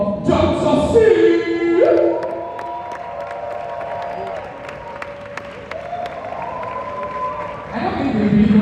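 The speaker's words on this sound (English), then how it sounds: "A round of applause, please." Audience applause and cheering greet a speaker walking on stage at a creators' networking event, a broad crowd wash that swells at the start, holds steady, then rises again near the end, with an announcer's voice over it.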